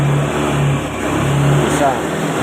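A fuel-injected motorcycle engine with a faulty, sputtering idle is revved gently, its mid-pitched drone wavering unevenly and close by, with a voice talking over it.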